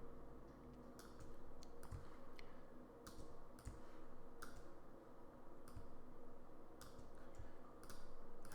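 Computer keyboard and mouse clicks during modifier-key click-and-drag copying, crisp isolated taps scattered at irregular intervals over a quiet room hum.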